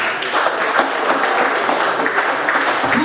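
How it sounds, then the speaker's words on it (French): Audience applause at a gathering honouring a political figure, a dense, steady wash of many hands clapping that holds at a constant level from start to finish with no voices standing out. "Applaudissez pour ça."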